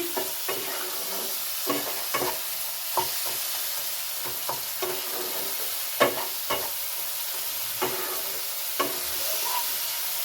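Rajma curry masala being sautéed in a pan, a steady bright sizzle under repeated scraping strokes of a spatula, close up with regular stirring knocks and no talking.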